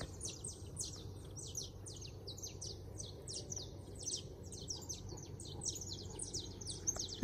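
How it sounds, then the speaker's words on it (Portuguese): Small birds chirp and twitter continuously at sunrise at a moderate distance, with quick high notes repeating over a quiet, low background hum, in Monte Verde, Minas Gerais. "Ao som dos pássaros."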